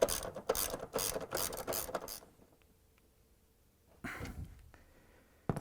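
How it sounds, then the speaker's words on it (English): A half-inch socket wrench ratchets bolts on a Whirlpool washer, fast clicking strokes in quick bursts, a pause, then another run of clicks, close up. "we're going to use half-inch socket wrench. And put the rest of the bolts."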